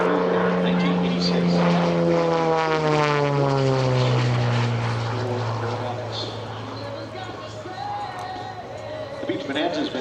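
A 1986 Beech Bonanza propeller airplane roars past during an airshow, its engine tone sweeping downward as it passes loud and close, then fading into the distance while an announcer talks over it.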